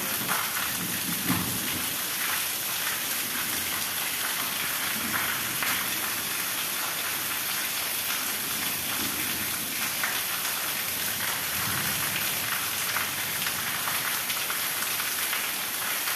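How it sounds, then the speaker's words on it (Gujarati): Steady heavy rain pouring down, with low rumbles of thunder rolling in a few times, constant and enveloping. "અને વરસાદ આવી ગયો હજુ બહુ ખાસ આવો વરસાદ તમે જુઓ"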